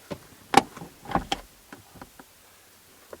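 Handbrake lever pulled up inside a parked car, a few close ratcheting clicks and clunks in two quick bursts, then lighter taps fading out, with no talking.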